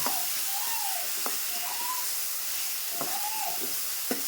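Green chilies and chili powder frying in hot oil, a steady soft sizzle with faint occasional stirring scrapes, no voices.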